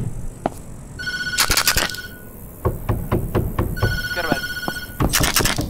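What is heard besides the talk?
telephone ringing in the video game Tattletail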